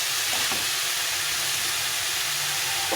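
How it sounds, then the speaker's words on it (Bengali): Cabbage and a fish head being stir-fried in a pan for a Bengali ghonto, giving a steady, close, continuous sizzle and hiss with a faint stirring knock near the start. "ভালো করে কপিটাকে আস্তে আস্তে দিয়ে কষিয়ে দিতে হবে"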